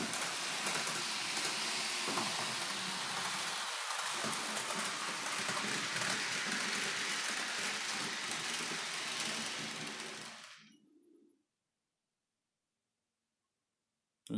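A Roco 51319 ICE 2 model train motor whirs slowly on its track, a steady broadband hum with faint rumble that runs continuously for about ten seconds, then cuts out into silence.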